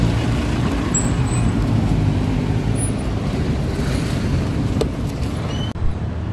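A jeepney bound for Navotas rumbles amid heavy street traffic. Engines drone loud and steady, with a brief knock or clunk near the end and no talking.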